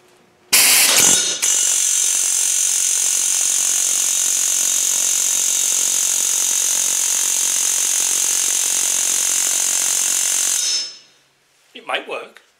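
Pneumatic air chisel hammering snapped manifold studs on a Rover V8 engine, a loud continuous rapid buzzing that runs for about ten seconds before stopping, followed by a few faint clunks.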